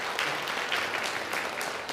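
Applause from an audience at a parents' education conference greets a school principal. The clapping is steady and moderately loud, with a few sharper bursts, and lasts about two seconds.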